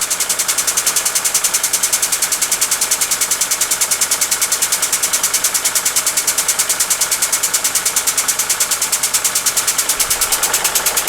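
A 22-ton air-powered hydraulic floor jack runs with a rapid, steady pneumatic pumping pulse throughout, loud and close, raising a car with no voices.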